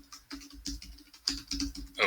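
Fingers tap out an email address on a computer keyboard in quick, uneven bursts of close, crisp keystrokes, with no talking.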